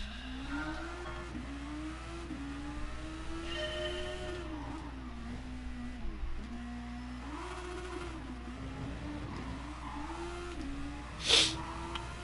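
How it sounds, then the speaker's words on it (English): A racing car engine in a driving video game, a higher-grip class than Group 3 cars, revs up and down through repeated gear changes at moderate level, with a short sharp noise near the end. "motor sounds real mean and raspy"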